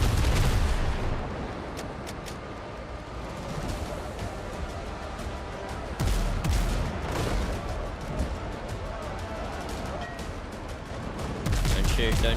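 Ship cannons fire in the pirate video game Windrose, rapid booming volleys and sharp cracks repeating throughout, loud and close, with occasional talk mixed in.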